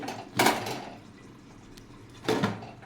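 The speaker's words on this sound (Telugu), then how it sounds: "ఇప్పుడు మూత పెట్టుకోవాలండి" Two distinct clanks of a metal lid set onto a cooking pan on the stove, each a short ringing knock about two seconds apart, fairly close with quiet room tone between.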